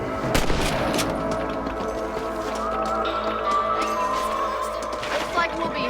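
Gunshots in the Red Dead Redemption video game on Xbox 360, fired at rabbits, ring out as sharp reports among continuous game ambience and voices, with a strong shot near the start and fainter ones later.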